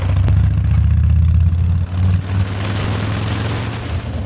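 Steady low motorcycle engine rumble held close and loud throughout, with a brief dip in power near the middle before settling back into a constant throaty drone; no talk over it.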